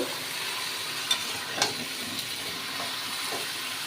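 Ekadashi vegetable curry with rock salt is stirred and fried in a pan, a steady close sizzle with a few sharp scraping knocks of the spoon against the pan.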